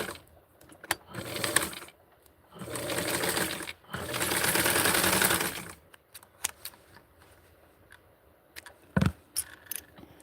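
Sewing machine stitching vintage 1960s barkcloth for a doll blouse, running in three sustained bursts with short pauses between, followed by scattered clicks and handling noises.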